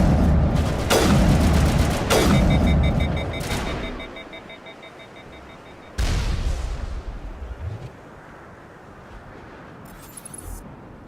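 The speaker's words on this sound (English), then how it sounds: "There's something up there that's shooting at us." Enemy gunfire in the sci-fi shooter Mass Effect: Legendary Edition, heavy booming shots and bursts at the start, then a lone sharp report around the middle and fainter scattered crackle fading toward the end, with no voices.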